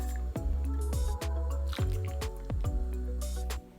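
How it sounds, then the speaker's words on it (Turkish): Sugar syrup poured over şekerpare cookies in a glass baking dish, a close series of wet drips and splashing squishes with brief pauses between pours, no talking. "Şekerparelerimi dizdiğim borcama şerbeti döküyorum."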